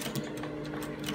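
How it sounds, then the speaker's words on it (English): A sewing machine runs steadily while stitching the top part of a senator placket on a garment, a continuous close whirring drone with faint rhythmic needle ticks. "So I'm going to turn it like this to stitch."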